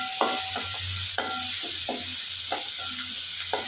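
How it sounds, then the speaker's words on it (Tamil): Okra sautéing with masala in sesame oil, a steady loud sizzle filling the pan while a spoon stirs in repeated scraping strokes, close and continuous with no talking. "இப்போ வதங்கினதுக்கப்புறம் நம்ம வந்து மசாலா சேர்த்து நல்லா வதக்கிக்கலாம்."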